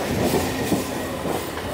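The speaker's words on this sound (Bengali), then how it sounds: "আর ওই ট্রেনটাও কিন্তু কারসেটে আসছে" A train rolls toward the Tikiapara car shed, wheels clacking over rail joints in a steady, moderately distant rumble with faint squeal, no voices over it.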